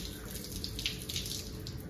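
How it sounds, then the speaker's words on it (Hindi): Water running from a tap into a balloon during a Holi celebration, a steady close gushing and splashing that continues throughout. "देखो बलून भरा जा रहा है।"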